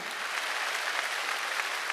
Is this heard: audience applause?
yes